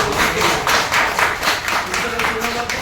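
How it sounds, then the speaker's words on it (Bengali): A church congregation claps loudly together in a steady, rhythmic beat of about three claps per second. The clapping is close and continuous, with a murmur of voices underneath. "ঈশ্বরের এই প্রতিজ্ঞার জন্য একটা জোরে হাত তালি"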